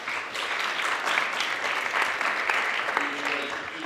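Sustained audience applause fills a hall at a cultural event in Strasbourg, steady and fairly loud throughout with a faint tone near the end and no talking over it.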